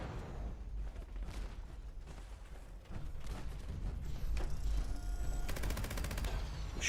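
Gunfire in Fallout 76 down indoor corridors, a steady stream of sharp shots that builds into a dense, rapid burst toward the end, fairly loud over a low rumbling background.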